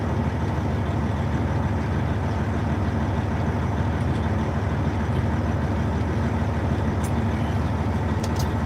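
A truck engine idles steadily while warming up, a continuous low rumble with a dense, throbbing texture holding constant and close throughout, with a couple of faint high clicks near the end.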